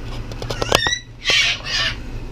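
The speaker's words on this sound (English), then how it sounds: "My bird's going to make some noise" A bird lets out a run of sharp chirps, then two loud, harsh squawks close by.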